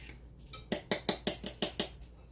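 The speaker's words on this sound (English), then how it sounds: "I'm just tapping it down and flattening it off so I have exactly 1/3 of a cup" About eight quick, evenly spaced taps of a 1/3 measuring cup holding mixed cake mix being knocked against a surface to level it, close and crisp with no voice.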